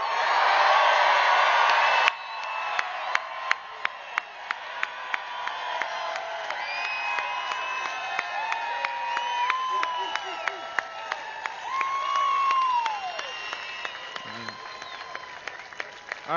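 A large crowd at a Make America Great Again political rally in Pensacola roars with applause and cheering, then keeps clapping, whooping and shouting at a lower level, with scattered voices and whistles through the noise.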